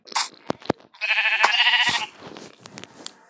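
A sheep in the Minecraft video game gives one clear, wavering bleat lasting about a second, surrounded by short clicks and taps, with no one talking.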